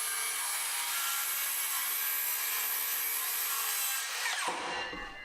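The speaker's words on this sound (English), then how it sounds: "I used my circular saw to make cuts along those lines." A circular saw rips through a sheet of plywood, a steady loud whining buzz that holds for about four seconds before the blade breaks free and spins down as the cut ends.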